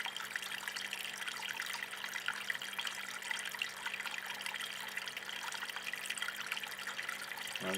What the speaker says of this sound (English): Excuse the noise of the pump splashing through the ice.